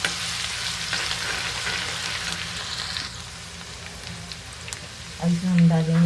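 Asafoetida, garlic-ginger paste and green chili fry in a hot pan, a steady broadband sizzle filling the clip, with a brief louder burst near the end as the mixture is stirred.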